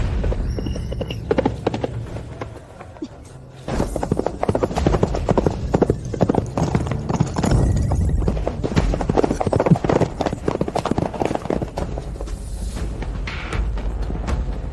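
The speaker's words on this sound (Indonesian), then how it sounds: "Pegangan erat adu cepat kuda dimulai." Horses gallop flat out in a race, a dense, loud drumming of hooves that carries on for the whole stretch, with the occasional neigh and rumbling background effects mixed in.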